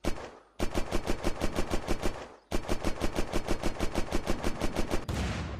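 Rapid bursts of heavy APC cannon fire in the video game Unturned, two long automatic volleys of evenly spaced booming shots separated by a brief pause.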